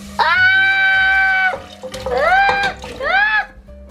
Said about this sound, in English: You are then going to put the potato and water.